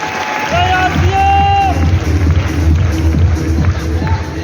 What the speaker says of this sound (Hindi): इनके लिए भी जोरदार तालियां ना